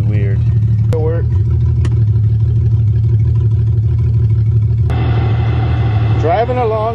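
A 1982 Toyota Cressida engine idles steadily with its fuel pump switched off, a low continuous drone running throughout with a few sharp clicks and squeaks on top.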